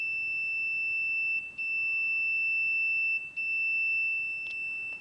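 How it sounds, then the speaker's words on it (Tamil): Steady high-pitched continuity beep from a DC power supply setup as the test leads touch, sounding almost continuously with two brief dropouts where contact breaks. "டச் பண்ணும்போது பீப் சவுண்ட் வந்தால் இது வந்து சரியாக கனெக்ட் ஆகிருக்கேன்ற அர்த்தம்"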